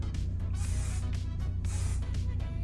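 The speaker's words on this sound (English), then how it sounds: "because this is a weave and it is a lot of hair, it needs spray" Hair spray hissing from an aerosol can onto a U-part weave in several close, loud bursts, each a short rushing spray separated by brief pauses.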